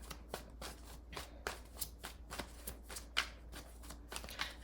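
Tarot cards shuffled and handled by hand, a quick run of soft papery riffles and flicks at close range, evenly repeated with no talking over them.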